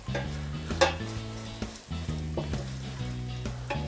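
Tomato paste frying in oil with onions and garlic, a steady close sizzle broken by scraping spoon strokes against the pan, with no one talking.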